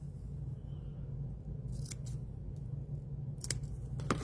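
Scissors cutting with a few sharp close snips over a low steady hum, no talking.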